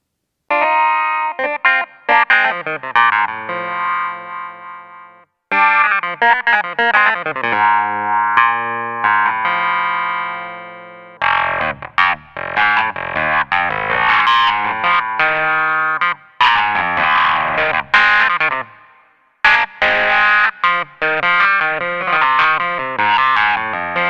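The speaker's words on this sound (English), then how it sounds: "There's a great wah-wah that you can use with the swell pedal of the organ" A Crumar Mojo 61 keyboard plays a funky clavinet line through a wah-wah effect swept by the organ swell pedal, with bright, twangy notes whose tone swells and closes in phrases broken by short pauses.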